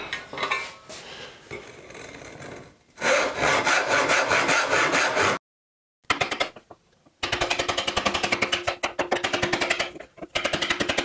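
A hand saw cuts a mortise in wood for a paper towel holder, making bursts of rhythmic rasping back-and-forth strokes, with a short silent pause between passes.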